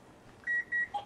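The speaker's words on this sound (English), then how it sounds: "our timer is going" A kitchen timer goes off during a live cooking stream, giving two steady electronic beeps and a shorter third, clear and close against a quiet room.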